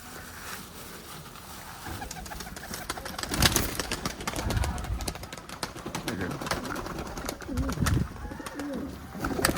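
Several highflying pigeons coo close by, deep throaty rolling calls repeating in bursts over a bed of fluttering and shuffling noise.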